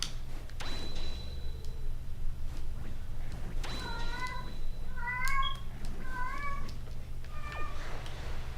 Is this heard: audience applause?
no